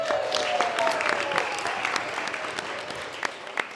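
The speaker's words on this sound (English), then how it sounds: "Round of applause." Wedding guests applaud in a dense, steady patter of clapping throughout a groom's speech, with a faint voice and a brief whistle-like tone early on, fading slightly toward the end.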